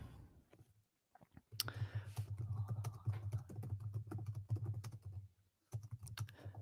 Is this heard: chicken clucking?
no